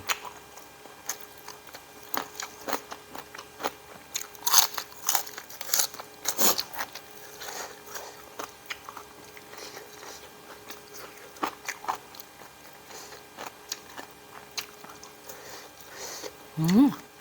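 Close, crackly crunching and chewing, with scattered crisp bites spread unevenly across a long stretch and a short vocal sound near the end.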